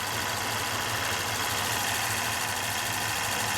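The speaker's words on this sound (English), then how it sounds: "The compressor should change tone when that gets through the system." A Ford car air conditioning compressor runs steadily with a constant mechanical hum and rapid rhythmic ticking, loud and close throughout with no voices.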